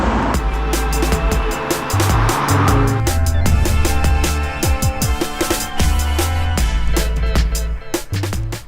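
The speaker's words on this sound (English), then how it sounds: "So apologies for the car noise." Steady road traffic noise rolls along beside a canal, a continuous broadband wash with passing vehicles swelling and fading throughout, fairly loud and with no talking.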